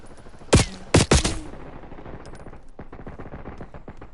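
In the Warzone battle royale video game, three sharp, loud gunshots ring out close together near the start. A faint, rapid patter of distant fire follows.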